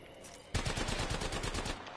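Gunfire in the video game Apex Legends, a sudden loud burst of rapid automatic shots that starts abruptly and continues without pause, close and dense.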